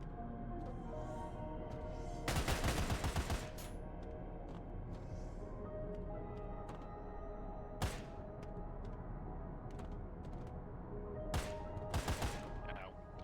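Gunfire from a firearm aimed at a prisoner in a cell aboard a submarine in the game Barotrauma: a rapid burst of shots, then a single crack and another short burst, over steady low machinery hum with faint voices in the background.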